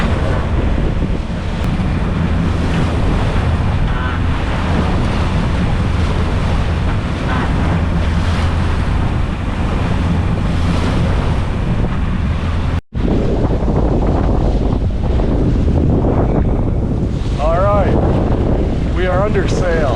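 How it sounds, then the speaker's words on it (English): Sailboat under sail in a slightly rough channel in the Bahamas, beating into a southeast wind: steady loud wind roar on the microphone over sloshing waves and hull noise, continuous throughout, with a brief dropout and a voice heard near the end. "The wind is from the southeast."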